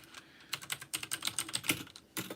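Rapid, close tapping on a small computer keyboard, a dense run of crisp key clicks after a brief pause, quiet and with no talking.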